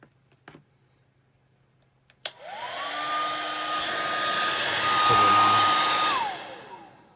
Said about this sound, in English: And then you grab your trusty dusty hair dryer.